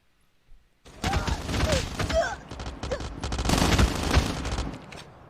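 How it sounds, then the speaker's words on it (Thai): Rapid bursts of gunfire crackle through the clip in Call of Duty Mobile, a dense volley of shots with scattered booms, loud and sustained for several seconds. "จังหวะนี้พก MW11 ควักออกมา1-2 โอ้โห ยิงเข้าจุดสำคัญ"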